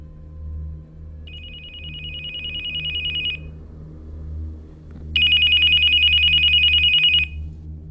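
A mobile phone rings in two bursts of a steady electronic warbling tone, the second louder and closer, over a low rumbling background with no talk.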